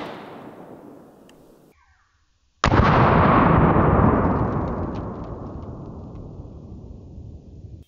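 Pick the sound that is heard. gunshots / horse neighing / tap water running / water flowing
gunshots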